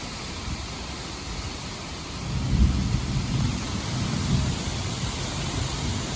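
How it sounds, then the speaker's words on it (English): Powerful wind gusts from a severe thunderstorm in Dayton roar as a steady, broadband rushing that swells louder partway through, with no voices. "It's just like super powerful gusts."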